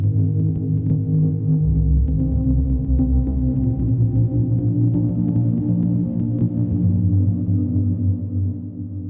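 A thick, throbbing granular guitar texture with shifting, irregular grains, droning loudly and continuously without any voices.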